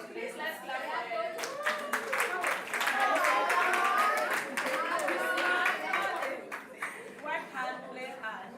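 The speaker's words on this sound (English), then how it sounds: "Please, let's clap for it." Audience clapping at a community day presentation event, a dense wash of many hands sustained for several seconds, fairly close and steady, thinning toward the end, with some voices mixed in.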